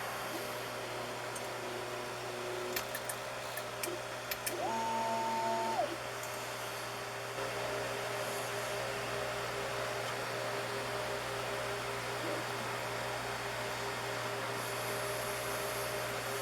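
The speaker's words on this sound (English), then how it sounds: "it goes ahead and homes the printer and starts drawing the skirt" A Creality CR6 3D printer homing and beginning to move its print head, with quiet stepper-motor whines and short tonal sweeps over a steady hum and fan hiss, with no talk.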